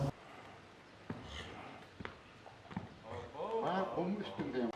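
Several horses brought out for viewing in Turkmenistan, with soft hoof clip-clops spaced through the clip under steady background noise and a burst of chatter toward the end.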